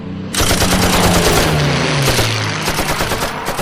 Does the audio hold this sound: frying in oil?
no